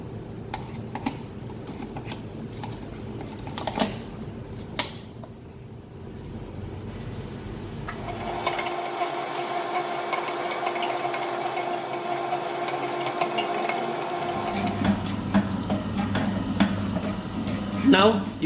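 A stand mixer kneads bread dough after butter and salt go in, a steady mechanical whir and knocking that shifts partway through, with someone talking over it throughout.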